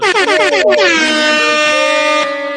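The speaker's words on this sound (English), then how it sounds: "Hold on, we gotta drop the air horn." A loud air horn blares in rapid stuttering bursts, then holds one long, blaring tone that fades slightly at the end.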